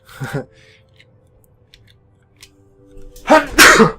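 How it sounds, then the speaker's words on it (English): A single loud sneeze bursts out near the end, preceded by a brief vocal sound and a few quiet clicks in a quiet room. "I'm gonna sneeze, hold on."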